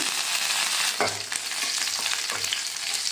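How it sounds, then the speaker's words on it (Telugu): Dried red chillies and curry leaves crackle loudly in hot oil for a guava pickle, a dense close sizzle broken by a few rhythmic stirring scrapes of a spoon in the pan. "ఇలా ఫ్రై అవుతున్నప్పుడే ఒక రెండు రెమ్మల కరివేపాకు కూడా వేసుకోవాలండి"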